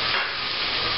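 Two pounds of squid rings hit a hot pan with vegetables, giving a loud, steady, close sizzle that holds evenly throughout.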